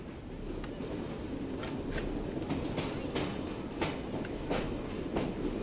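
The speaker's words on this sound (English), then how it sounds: "we shall now leave the train." A train in Assassin's Creed, set in Victorian London, runs along its rails with a continuous rumbling roll. Rhythmic clickety-clack wheel beats recur throughout, with no speech.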